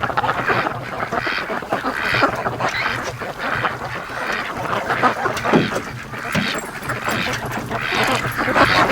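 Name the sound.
ducks quacking on a lake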